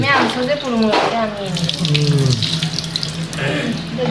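Tap water runs steadily into a kitchen sink or bowl as raw meat is set into the water during biryani preparation, with a faint voice in the background.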